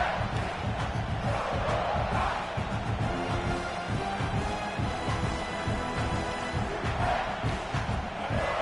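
College football stadium crowd, a Razorbacks game, roars in a loud continuous wash of cheering and yelling, steady and far-spread throughout.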